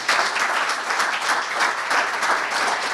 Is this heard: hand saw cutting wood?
no